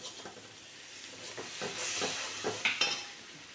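A gentle sizzle of masala cooking in a pan with a little mutton soup, with a spoon scraping and stirring in short strokes and a couple of light metallic clinks.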